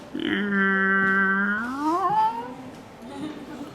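A person imitates a cat with a long, drawn-out meow, held steady then sliding upward in pitch, followed by faint room noise.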